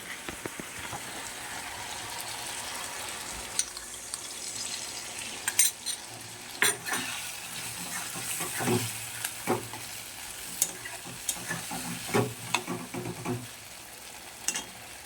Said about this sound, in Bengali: একটু নাড়াচাড়া করবো।